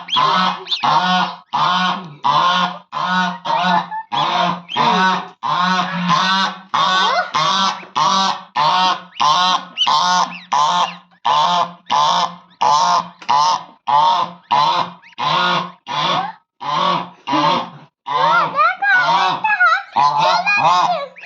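A mother goose or duck honks near her chicks, repeating loud, close calls in a steady rhythm of about thirty short honks with brief gaps, ending in a rougher flurry.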